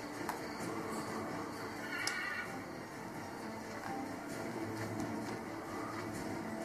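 A faint horse whinny from Assassin's Creed 3 game audio, the horse glitched, sits under a steady background hum, with light clip-clop hooves and no clear talking.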